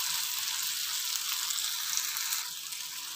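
Chopped eggplant sizzling in an oil-filled pan for a Kerala-style mezhukkupuratti, a steady bright crackling fry that continues throughout and softens slightly near the end, with no talking.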